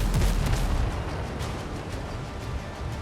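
Heavy ship cannon fire at sea in Windrose, a deep booming blast at the start followed by rumbling, crackling bursts and echoing aftershocks that fade but keep a dull roar.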